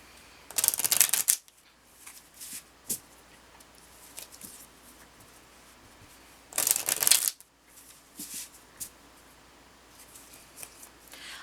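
Lenormand cards are shuffled in two quick, crisp riffling bursts, with soft card handling and light taps in between, close and with no voices.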